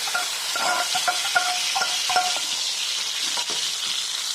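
Pirandai (adamant creeper) chutney is stirred into hot oil with asafoetida, giving a loud, continuous sizzle broken by repeated light metal clinks of a spoon against the pan; no voices.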